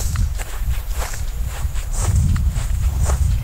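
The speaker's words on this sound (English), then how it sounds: "sounds of wind and nature, man walking in a soybean field." Footsteps crunch through dry soybean plants in a field in a steady walking rhythm, accompanied by low wind rumble and rustling, with no voices.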